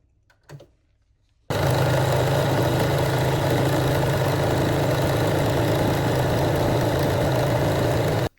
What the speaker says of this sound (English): And now we will sew along the top again.